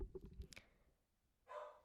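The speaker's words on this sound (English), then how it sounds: "there's my dog." A pet dog barks several times up close in a quiet room, a short burst of sharp yips at the start followed by a brief whimpering whine after a pause.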